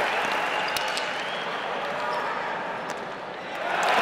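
The crowd at a pelota fronton applauds, a sustained, fairly loud roar of clapping filling the hall and swelling again near the end, with a few sharp ball or court knocks cutting through.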